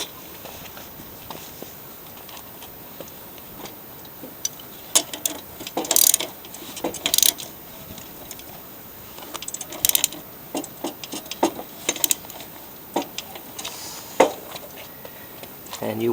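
A wrench ratchets in short bursts while tightening the blade bolt on a lawn mower, clicks coming in irregular clusters close to the microphone, with a person talking in between.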